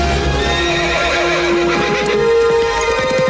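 A horse in a Steven Seagal action film gives a loud whinny amid hoof clatter, layered over a steady tonal background of score, with no voices.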